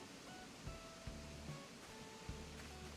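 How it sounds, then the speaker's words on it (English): A waterfall in a quiet forest glade in Animal Crossing: New Horizons gives a steady, soft rushing wash of water, faint and constant, with a few light thuds and no voices. "you can sit on these trees and just listen to that waterfall"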